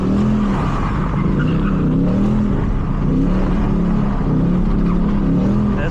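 Steady low engine drone from a 2013 Ford Mustang GT while driving, a continuous loud rumble with slight pitch swells as it moves along, no talking heard.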